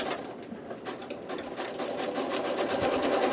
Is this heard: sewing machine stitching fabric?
yes